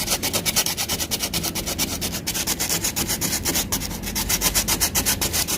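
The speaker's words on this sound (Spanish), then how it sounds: "vamos a pasarle una lija" Sandpaper rubbing back and forth over dried layers of gesso on an old carved baroque wooden altarpiece, a steady rhythmic scratchy rasp of quick strokes, close and continuous with no talk.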